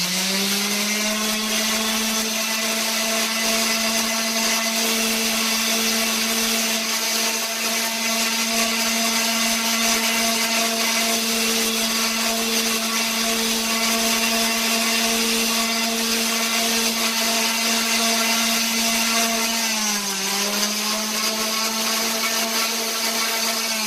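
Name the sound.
power palm sander sanding dry bar stool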